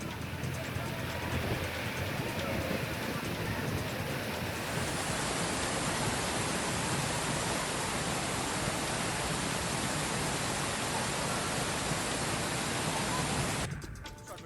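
Amboli waterfall in Sindhudurg during the monsoon roars as a steady, broad rush of falling water, loud and unbroken for the whole stretch.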